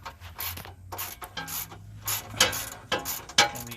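Ratchet wrench clicking as it turns a 15 mm bolt on the heat shield of a 2007-2015 Chevy Tahoe, in short irregular bursts of close, crisp ratcheting with brief pauses between strokes.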